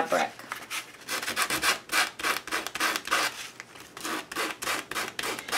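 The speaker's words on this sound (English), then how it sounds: "I'm going to bring in that same sandpaper, and I'm just going to go along the edge and rough up the edge of the fabric" Sandpaper rubbing along the edge of a piece of fabric in a mixed-media craft project makes rapid, rhythmic rasping strokes, each one loud and close, repeated back and forth without pause.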